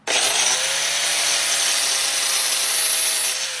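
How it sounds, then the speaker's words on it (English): A flap wheel grinds the edge of a pizza box wedge, producing a loud, steady, high abrasive hiss that runs unbroken for several seconds with no other sound. "Now we'll hit it with the flapper wheel, and that'll dress it up, smooth it out a little bit."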